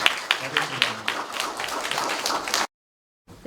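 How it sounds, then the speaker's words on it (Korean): Audience applause at a parents' admissions information session at a Korean high school: a crowd of parents clapping steadily for a few seconds, with some voices, before the sound cuts off abruptly. "큰 박수로."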